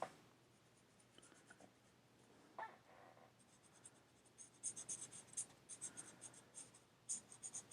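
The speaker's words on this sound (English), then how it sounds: "So I just use an alcohol marker." Alcohol marker scratching and squeaking across paper as a graffiti word is colored in green, quiet at first and then a run of close, rhythmic strokes.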